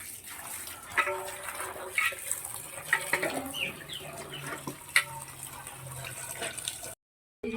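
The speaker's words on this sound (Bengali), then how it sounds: "এই যে পেঁথাটার মধ্যে এখন এরমভাবে জল তুলে তুলে ভালো করে ধুয়ে নেব" Overnight-soaked potatoes being washed by hand in tap water for homemade potato papad: close, uneven splashing and sloshing of water, continuing steadily before cutting off abruptly near the end.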